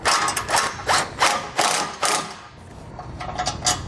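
Ratchet tightening an M10 bolt on a vehicle base plate kit, a series of loud close clicking bursts in an uneven rhythm, about six strokes followed by quieter faster clicks.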